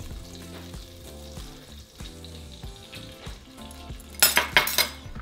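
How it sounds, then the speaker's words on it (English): Onions cooking in oil inside an Instant Pot, a steady sizzle under a music bed, with a burst of louder crackling and clatter near the end. "we're going to begin to cook our onions"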